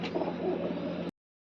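A female pigeon coos softly at close range, a single low murmuring call lasting about a second before cutting off to silence.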